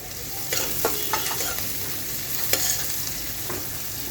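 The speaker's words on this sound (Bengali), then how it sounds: "একটু ভেজে নিব।" Chopped onions and a bay leaf fry in hot oil in a pan, with a soft continuous sizzle broken by several scraping stirs, fairly quiet and with no voices.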